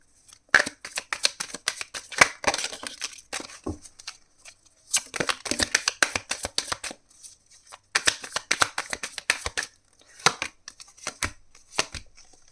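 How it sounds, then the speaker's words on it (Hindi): Tarot cards being shuffled by hand, repeated crisp riffling bursts in several separate rounds with short pauses between, close and clear. "3 शफल्स करेंगे।"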